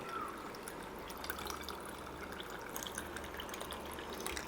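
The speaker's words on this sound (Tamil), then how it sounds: "அடுத்தது நம்ம தண்ணி சேர்த்துக்கலாம்." Water trickles and drips into glasses over ice cubes for a sherbet drink, a quiet close pour with small liquid splashes and faint clinks.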